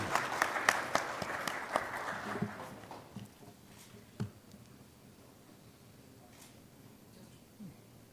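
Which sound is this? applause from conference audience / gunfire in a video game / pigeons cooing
applause from conference audience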